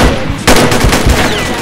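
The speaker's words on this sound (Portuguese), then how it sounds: "Eu dei um tiro nele." Rapid automatic gunfire in a shooter video game, loud and close, starting abruptly after a brief lull and continuing as a dense burst of shots.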